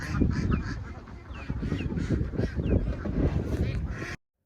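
A group of ducks quacks and honks repeatedly nearby, irregular calls overlapping above a rough, busy outdoor background before the sound cuts off abruptly.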